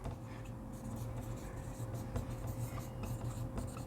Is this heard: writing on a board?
yes